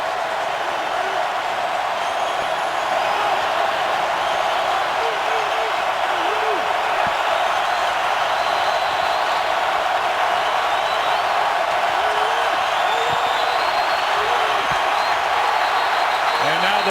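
Steady roar of a stadium crowd at an NFL game, 49ers at Saints in New Orleans, 2012, sustained and loud throughout, with faint commentary voices underneath.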